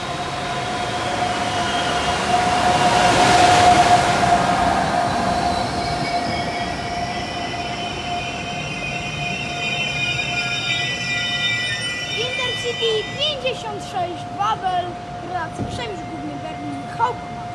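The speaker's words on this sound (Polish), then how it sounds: "na pcd dwójce odjedzie pociąg Intercity, Wawel z Husarzem" An Intercity Wawel passenger train departs Opole Główne station, a loud rumbling pass with a sustained tonal whine. Wheels squeal and click in the later part, and a station announcement voice is heard over it.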